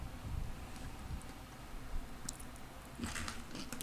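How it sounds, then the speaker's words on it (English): Crunchy bites and chewing of fresh cucumber at a hotel restaurant table, a few soft crisp crunches followed by moist mastication, close and fairly quiet against a low room murmur, with no talking. "And now I'm going to try cucumber."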